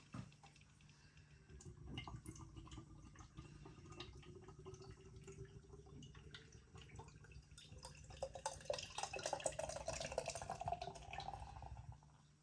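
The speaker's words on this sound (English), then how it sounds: "let's get this beer out into a glass and see what we get." Hackney Church Halo Helles Lager pouring steadily into a glass, a continuous gurgling fill that rises in pitch and fizzes toward the end.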